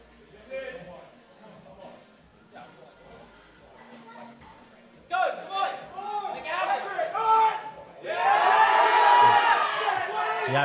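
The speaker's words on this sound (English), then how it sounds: "Crowd getting behind him." Crowd at a powerlifting competition cheering a lifter on, a low murmur swelling into loud sustained cheering and whoops near the end, with a commentator talking over it.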